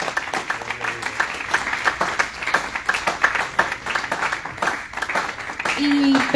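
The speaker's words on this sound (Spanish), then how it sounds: "¿por qué le damos un aplauso a nuestro Señor Jesús en esta mañana?" Congregation clapping in a church service, a brisk, steady stretch of many hands with some rhythmic clapping, and a voice coming in as it tails off at the end.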